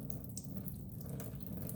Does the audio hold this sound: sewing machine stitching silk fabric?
no